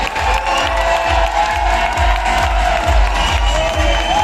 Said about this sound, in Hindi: यस, तालियां भी मिलना चाहिए।